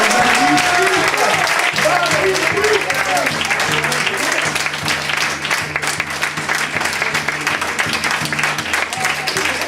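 An audience applauding loudly after a stage performance, continuous full clapping throughout with a thick crowd wash and some voices mixed in.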